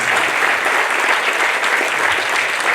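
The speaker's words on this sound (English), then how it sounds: "Let's give a beautiful round of applause" Steady, dense applause from a crowd at a ribbon-cutting ceremony fills the whole stretch, loud and even throughout.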